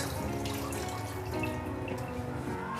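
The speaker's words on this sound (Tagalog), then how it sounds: "Lagyan na natin ng tubig, 2 cups." Two cups of water poured into a cooking pot holding meat and tomato sauce, a steady close splashing pour filling the whole stretch without any talk.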